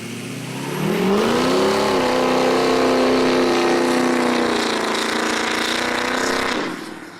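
A tuned pickup truck engine revs up hard and holds a loud, rising roar for several seconds before dropping off, with the sound heard up close outdoors.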